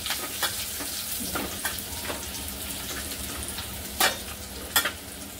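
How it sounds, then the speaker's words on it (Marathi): Garlic, curry leaves and asafoetida frying in hot oil give a steady close sizzle, with a few sharp crackles and scraping stirs breaking through, and nobody speaks. "तेल गरम, आपण हे लसूण आणि कढीपत्ता जो चिरून ठेवलाय ना तो टाकूया। थोडंसं हिंग टाकूया, असं परतून घेऊया,"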